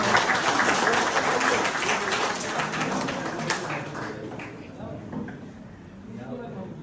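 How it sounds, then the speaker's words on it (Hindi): Audience applause welcoming the next participant at a mushaira poetry night, a dense burst of clapping from the crowd that stays loud for several seconds before easing slightly. "अब जोरदार तालियों से इनका स्वागत।"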